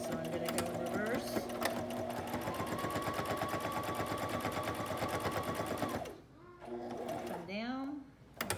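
A sewing machine chatters in a fast, even rhythm while reverse stitching a fabric bowl cozy, loud and close, then stops as someone talks briefly over the quiet.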